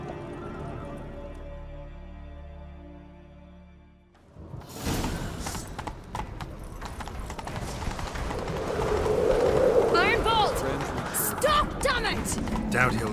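Horse galloping in The Witcher 3, starting after a quiet stretch of game music: rapid hoofbeats under a whoosh of motion, with characters talking over the chase.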